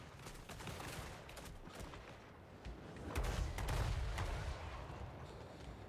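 Troops trading gunfire in the Total War: Warhammer 3 video game, a dense rolling crackle of volleys that swells louder midway, heard without talk.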